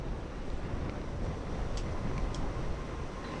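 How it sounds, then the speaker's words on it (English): Strong wind buffets a microphone outdoors at a solar telescope imaging session, making a steady, loud, low rumbling roar that runs unbroken for the whole stretch with no talking. "Even with those strong wind conditions, I'm really not expecting anything out of this."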